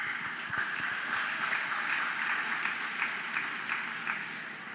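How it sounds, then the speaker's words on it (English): Steady applause from an audience at a city's State of the City address, a dense, even patter of many hands clapping that tapers slightly toward the end. "How about a huge round of applause?"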